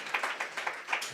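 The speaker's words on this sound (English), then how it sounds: "A round of applause for Kristóf." A forum audience at a human-robot collaboration event claps in a fairly thin, quick run of individual claps, heard from across the room.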